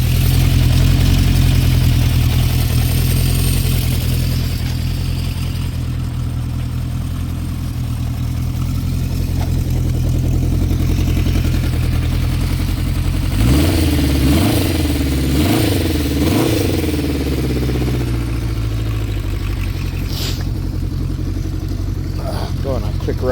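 A 1972 Honda CB500K1 motorcycle engine runs steadily close by, with a few quick revs rising and falling midway, loud and continuous throughout.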